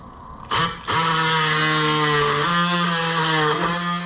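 A DeWalt cordless saw spins up with a quick whir, then cuts into wood in a loud, steady buzzing whine whose pitch steps slightly as the blade works through, lasting a few seconds without talking.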